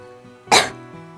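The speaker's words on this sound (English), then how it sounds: "Try not to cough all over the mic." A single sharp cough into a close microphone, loud and brief, standing out over a quiet background of game music.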